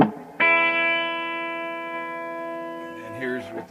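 An electric guitar on the bridge pickup through a Musicman RD50 amp with the sparkle switch on rings out one bright, sustained chord that decays slowly, then a few softer notes near the end.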